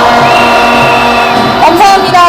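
Protest marchers calling for a president's impeachment raise a loud collective shout in a city street. The roar is sustained and dense for the whole stretch, with voices swelling and shifting in pitch and a sudden burst near the end.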